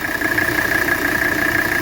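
Steady, close idle of a 1984 Mercedes 300SD diesel engine with the oil cap off for a blow-by test, an even, unbroken rumble throughout with no voices.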